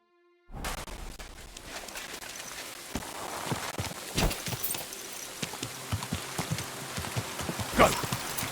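Horse hooves clip-clop steadily in the medieval game Kingdom Come: Deliverance II, a close, continuous trot over a rain-like ambient wash, with a sharper heavier step near the end and no talking.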